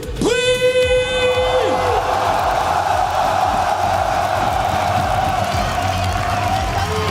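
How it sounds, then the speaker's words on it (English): A packed esports arena crowd at a League of Legends event in Paris lets out a sustained, roaring boo as a team walks onto the stage, with whoops mixed in and a brief tonal blare at the start. "It's a friendly boo, but it's one to warn off anyone's legend as they enter the stage."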